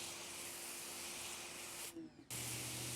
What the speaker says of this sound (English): This is the spray pattern. You go wide, small,